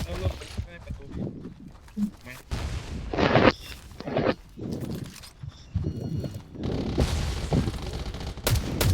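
Gunfire in the online shooter game Garena Undawn, repeated sharp shots and bursts scattered through busy game sound, loud and close, alongside hoofbeat-like clatter.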